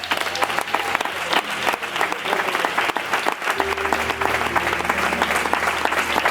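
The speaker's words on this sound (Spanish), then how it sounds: "este aplauso de la iglesia es para la palabra" A church congregation applauds after a pastor's message, producing loud, sustained clapping from many hands, with a low tone entering partway through.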